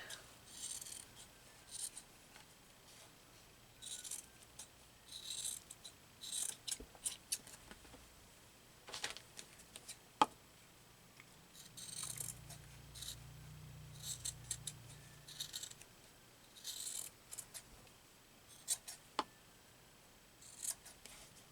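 Scissors snip through paper for an altered index card craft project, a series of short, close, crisp cuts in clustered bursts with quiet pauses between, and no talking.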